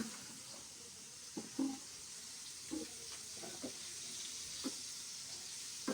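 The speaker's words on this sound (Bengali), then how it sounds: "রুই মাছ এটা কোথাও ভাজছো নাকি?" Rohu fish frying in a pan gives a soft, steady sizzle, with occasional light clinks and taps of a utensil scattered through.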